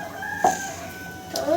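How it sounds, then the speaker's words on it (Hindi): A rooster crows twice in quick succession, close and clear, with a faint background hum and no talking. "इससे तो मुर्गा ही अच्छे तरीके से बोल रहा, बातें कर रहा है, कुकड़ू कुकड़ू कह रहा है वो देख"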